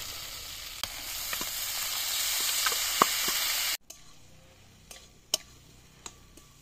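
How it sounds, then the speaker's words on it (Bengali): Potato and banana flower sizzling in hot spiced oil, a steady close hiss with scattered pops and ticks, then a quieter stretch of spitting crackles after stirring. "তেল ছেড়ে দিয়েছে, মশলা হয়ে গেছে, এবার আলুটা দিয়ে নেড়ে ছেড়ে দেবো। এবার দিয়ে দেবো মোচা।"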